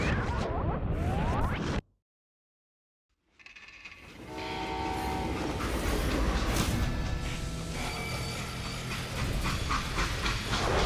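Freight train in the Western video game Call of Juarez: Gunslinger, a horn-like tone over steady rolling rail rumble and clatter after a brief silent gap, loud and continuous.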